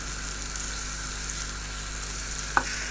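Tomatoes fry in a pan with ginger garlic paste, giving a steady, close sizzle and crackle with one small stirring clink near the end.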